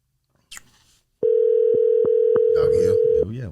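A phone call goes out: a few brief clicks, then a loud, steady single-pitch tone held for about two seconds, with voices and chatter breaking in near its end.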